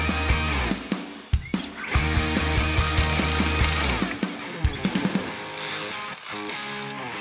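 A ratchet tightens the nut on a battery cable terminal, with busy clicking and metallic ratcheting bursts, loud and close, in several quick runs separated by short pauses.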